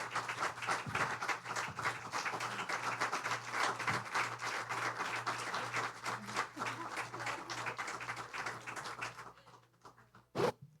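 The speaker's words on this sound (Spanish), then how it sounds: "Den un aplauso al Señor porque mira la obra maravillosa." Audience applause during a Sunday church service, a long, steady wash of clapping over a low hum, fading near the end before one sharp final clap or knock.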